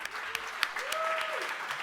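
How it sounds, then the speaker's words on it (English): Applause from a conference audience at a closing keynote, moderate clapping with a few sharper claps standing out while a voice speaks over it. "Give yourselves a round of applause."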